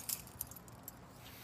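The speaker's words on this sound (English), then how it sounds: "Grab my keys." A bunch of keys jangles as they are grabbed, a brief metallic rattle with a few sharp clinks near the start, then quiet handling noise, close and fairly soft with no talking.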